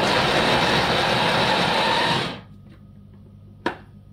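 Onion and shallots are chopped in a small electric chopper: a loud, steady motor whir runs for about two seconds, cuts off, then a single sharp click follows in the quiet.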